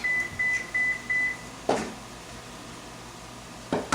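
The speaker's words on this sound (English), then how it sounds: "I don't know what that beep was." A string of short, evenly spaced electronic beeps sounds at a steady rhythm, followed by quiet room noise and a couple of soft clunks.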